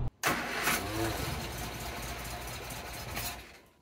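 A Morris Minor car engine cranks and catches after a short gap, then runs at a rough mid-pitched idle close by, settling slightly before tailing off.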